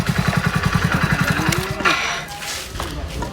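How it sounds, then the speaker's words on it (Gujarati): A motorcycle idles close by with a steady, rapid putter that fades after a second and a half, while people talk over it. "ભાઈ આટલા બાઈક ઉભું રાખો."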